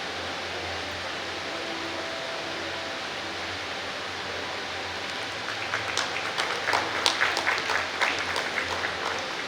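Audience at a Late K.C. Bajaj Jayanti medical camp applauding a guest welcomed on stage, faint room murmur at first, then a burst of clapping that builds and continues to the end.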